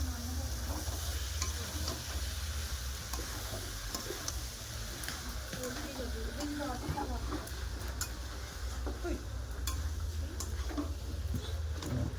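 Boiled chickpeas and potatoes frying in a spiced masala with Kashmiri chilli for a Diwali meal: a steady, close sizzle runs throughout, broken by repeated scraping stir strokes.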